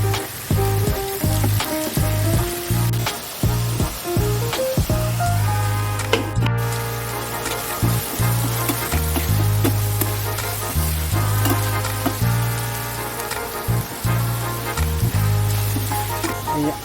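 Potatoes and pumpkin frying in a pan for a vegetable curry, a steady sizzle running through the whole stretch beneath loud rhythmic background music.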